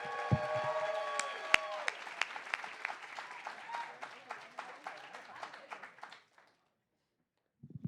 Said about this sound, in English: Big round of applause for Alexis Prigo, everybody!